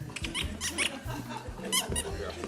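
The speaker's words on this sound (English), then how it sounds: "got a bit of a squeaky chair" A squeaky chair gives off several short, high squeals and creaks among voices, with people talking close by throughout.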